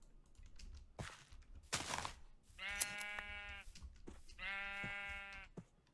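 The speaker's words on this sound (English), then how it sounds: "Hello, sheep. I'm here for you and your wool." Sheep in a modded video game world give two clear, loud bleats, each about a second long, separated by soft clicks and keyboard-like taps.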